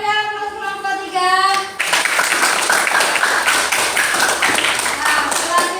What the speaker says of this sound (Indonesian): kita beri aplaus kelompok 3